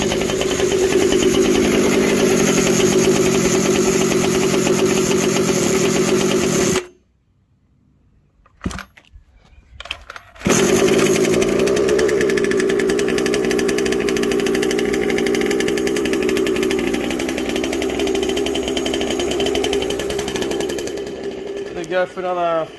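The small gas engine of a Losi 5T 1/5-scale RC car with a worn pullstart runs loud and close, buzzing steadily, then cuts out briefly before restarting and running on at a steady idle.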